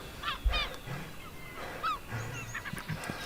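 A bird honks repeatedly, goose-like, in short nasal calls scattered across a few seconds over a low background rumble, heard during a fantasy drama episode.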